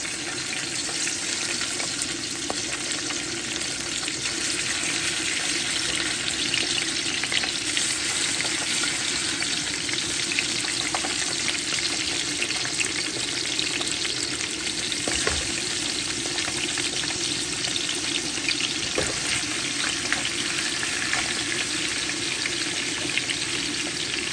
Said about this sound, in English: now we're gonna add the oxtail in piece by piece